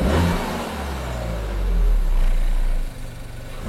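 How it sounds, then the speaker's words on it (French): A 2022 Suzuki Swift Sport Hybrid's turbo engine revs up, heard as a loud, close, rising engine roar that swells, dips briefly and then climbs again, with no talk over it. "On sent le turbo qui monte dans les tours."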